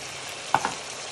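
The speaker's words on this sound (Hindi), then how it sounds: "तो अब हम अच्छे से फ्राई करेंगे।" Mutton (gosht) with potatoes fries in a pot with a steady sizzle, and a brief clink of stirring cuts in partway through.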